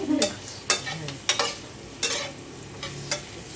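Onions fry in a pan while being stirred, giving sharp scraping strokes about every half second over a soft, steady sizzle, close and fairly loud.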